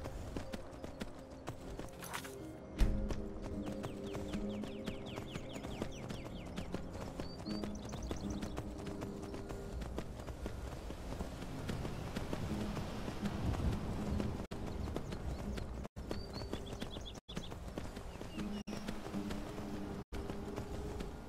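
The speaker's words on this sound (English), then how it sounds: "one of the best feelings is riding the horse around Skyrim" Horse hooves clip-clop at a steady gallop while riding in the video game Skyrim, with an occasional whinny and game music beneath, continuous and moderately close.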